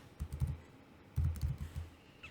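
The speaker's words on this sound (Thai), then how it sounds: "ก็พิมพ์ไปว่า attachment นะคะ" Someone types on a computer keyboard in two short bursts of quick, close key clicks with a pause between, fairly quiet in a still room.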